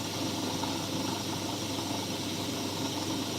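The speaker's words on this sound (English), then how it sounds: "At the moment I've got the mill running at just shy of 1500 RPM" A metal milling machine spinning near its top speed of about 1500 RPM while cutting wood, giving a steady, even broadband hum and hiss with no breaks.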